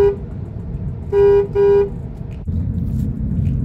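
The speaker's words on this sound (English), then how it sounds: "Let's see what the horn sounds like." Two loud car horn honks in quick succession, each about a third of a second, over a steady road and engine rumble.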